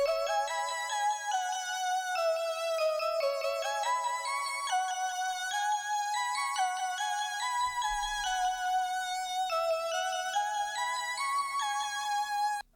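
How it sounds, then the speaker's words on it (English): A quirky Massive synth patch reminiscent of the X-Files intro plays a bright, bell-like melody with steady stepping notes, clean and continuous for several seconds, with no voices. "another thing off Massive is this thing I've labelled X-Files, because it kind of sounds like the X-Files intro"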